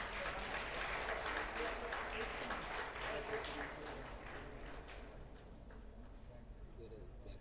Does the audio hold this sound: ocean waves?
no